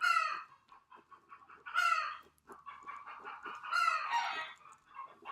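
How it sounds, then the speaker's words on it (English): Chickens cluck and crow steadily outdoors at moderate distance, with repeated squawking bursts and a rooster-like call rising over a continuous clucking chatter. "Hear the chickens out there."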